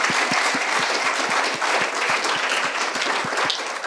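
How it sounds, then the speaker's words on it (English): A conference audience at a rural event applauds loudly and continuously, with dense steady clapping filling the room throughout. "One more round of applause."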